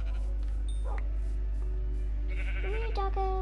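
Minecraft sheep bleating in a video game, a couple of wavering electronic-sounding bleats near the end over a steady game background hum.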